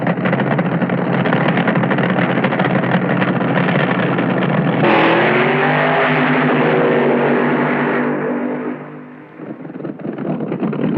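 Roaring AA fuel dragsters in a first-round drag racing elimination, loud and continuous engine thunder filling the whole stretch, shifting into a rising, harmonic howl midway before fading slightly near the end.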